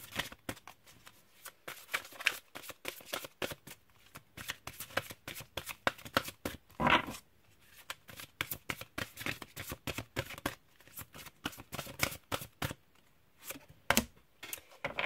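Tarot cards being shuffled by hand, a long run of quick riffling flutters and soft slaps with brief pauses, close and fairly quiet, with no talking.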